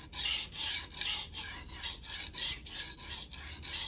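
A Shirogami steel bunka knife drawn back and forth over a Rika 5000 whetstone, a rhythmic close scraping in even strokes about twice a second, with no talk.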